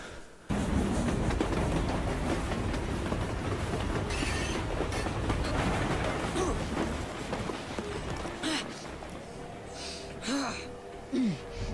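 A train rolls through a station in Assassin's Creed Syndicate, set in Victorian London, with a steady loud rumble and rattle throughout and some brief squeals and clanks near the end.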